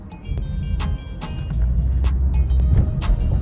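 After a mass airflow sensor cleaning, a car engine is revved up from inside the cabin, a loud low roar that swells and holds strong, with brief clicks and ticks near the start.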